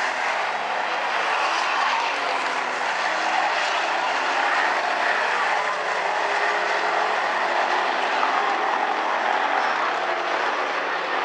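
Hobby stock race cars roar around South Sound Speedway during an 8-lap heat race, a loud, unbroken engine drone that holds steady throughout with no voices.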